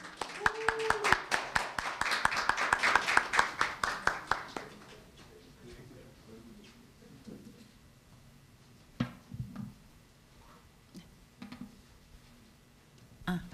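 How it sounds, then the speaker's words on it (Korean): Applause from a conference audience at a Korea University campus-town event in Seongbuk, a dense burst of clapping for about four seconds that quickly fades, followed by scattered faint knocks and room noise. "큰 박수 부탁드리겠습니다"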